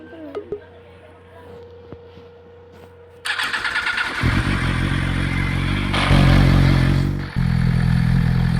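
A video game motorcycle engine sputters to life after a few faint clicks, then idles and revs loudly in a steady roar, with a short surge near the end.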